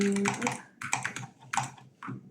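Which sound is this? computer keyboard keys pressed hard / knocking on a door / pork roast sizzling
computer keyboard keys pressed hard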